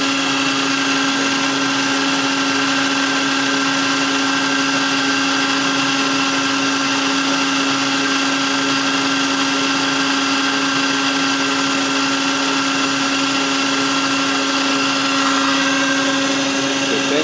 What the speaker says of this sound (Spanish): Y el ventilador se está deteniendo poco a poco.